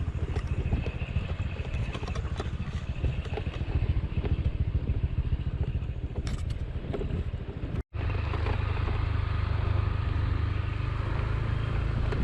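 Motorcycle riding over a steep, rocky road on western Lombok, a continuous rough engine rumble mixed with wind noise, broken by a momentary dropout before the engine drone resumes steadily.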